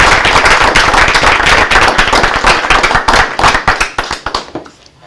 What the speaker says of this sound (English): Would you mind standing, Kathy, so we can give you a round of applause?